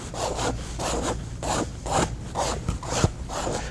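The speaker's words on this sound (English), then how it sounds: "What happens when I take that plastic fork and I just rake it through that" A plastic fork rakes through thick acrylic modeling paste in a close series of about eight rhythmic scraping strokes, each a short gritty rasp, with no voices.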